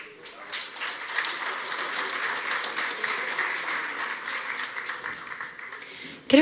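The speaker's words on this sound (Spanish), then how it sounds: "Un aplauso para él." Audience applause at a forum event, steady dense clapping from a crowd that holds level for several seconds and then tapers off near the end.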